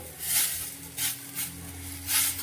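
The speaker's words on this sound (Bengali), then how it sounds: "কম আছে, লো ফ্লেমে ভেজে নিচ্ছি।" Food sizzles gently in a pan over a low flame, a soft steady hiss with a few brief louder bursts of spattering as it is stirred, close by and without talk.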